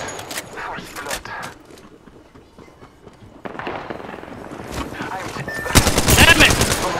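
Rapid gunfire erupts in a team shootout in a video game, with scattered shots early on, then a sustained, loud barrage near the end, while players talk over the action.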